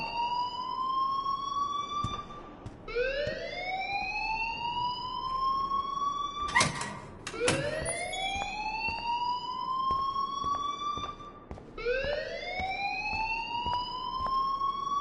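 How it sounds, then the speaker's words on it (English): A video game alarm wails in repeated rising electronic sweeps, each climbing tone restarting every few seconds, loud and continuous with a sharp burst of noise midway. "please turn off that alarm since that's your job"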